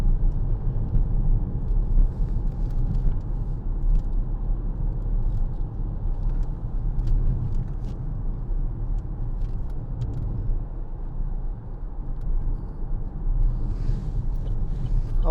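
A 2014 Vauxhall Insignia 2.0 CDTi SRi diesel hatchback on a road drive, with a steady low engine and road rumble plus some wind noise running unbroken throughout, with no talking.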